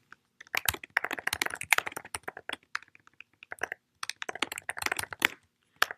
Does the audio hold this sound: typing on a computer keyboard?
yes